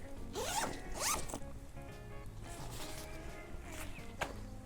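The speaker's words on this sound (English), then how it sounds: "It's got a double zipper." The double zipper on a portable hammock chair's carry bag is pulled in several quick rasping zips, close by, with a few softer rustles and small handling clicks after them.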